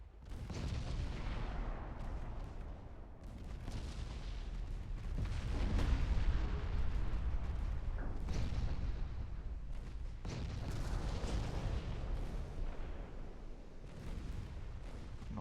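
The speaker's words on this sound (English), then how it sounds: "that was a flash fire" Heavy naval gunfire and a flash fire aboard a warship in a naval strategy game, with deep continuous booming salvos and rumbling explosions rolling one into another without a break.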